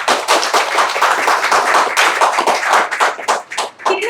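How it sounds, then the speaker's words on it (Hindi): A packed college auditorium at a constitution-awareness event erupts in loud, sustained applause from many hands, a dense crackle of clapping that fills the hall and fades slightly at the end. "कितना अच्छा लगता है जब तालियों से गूंज जाता है पूरा सभागार।"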